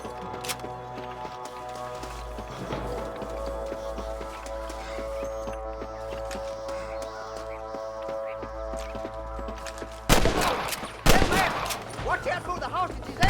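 Sustained music bed with a long stretch of steady tones, then sharp bursts of loud gunfire near the end, with brief gaps between volleys.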